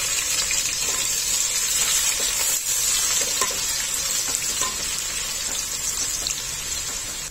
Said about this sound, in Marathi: तेलामध्ये कांदा थोडा परतला गेलेला आहे